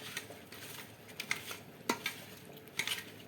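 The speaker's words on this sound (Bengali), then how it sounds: "ভালো করে মাখানো হয়ে গেছে নুন হলুদটা মাছে।" Fish being mixed by hand with salt and turmeric, soft wet squelching and pattering with a few sharp taps against a bowl, quiet and close, with no talking.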